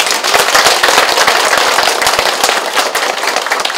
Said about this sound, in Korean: 큰 박수로 감사함을 전해주십시오.